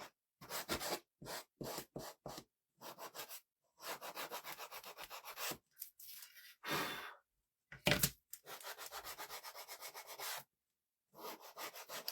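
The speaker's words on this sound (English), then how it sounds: "Because now I'm going to sand this top" Someone hand-sands the top edge of a wooden birdhouse, making bursts of dry, scratchy rubbing strokes separated by short pauses. The sanding is close and moderately loud, with no talking.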